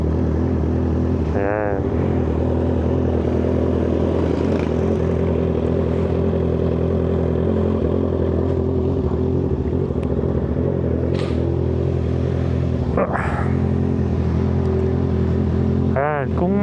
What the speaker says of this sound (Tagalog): 2025 CBR 650R SC Project